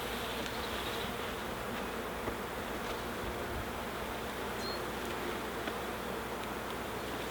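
Honey bees buzzing around an opened beehive super box, a dense, continuous hum that stays even and close throughout, with no talking.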